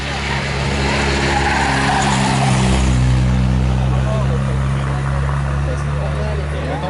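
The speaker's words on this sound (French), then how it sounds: "Yann Gaulier à bord de cette 309 GTI 16S." A Peugeot 309 GTI 16S race car runs at a historic hillclimb, its engine droning loud and steady with a rising rev partway through, while a voice talks over it.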